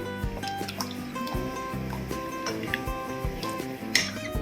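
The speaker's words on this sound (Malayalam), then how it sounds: "ഇത് തിളച്ച് തുടങ്ങിയിട്ടുണ്ട്" Curry gravy for butter chicken bubbles in a pot, giving close, steady liquid blips and drips with occasional light clinks of utensils against cookware.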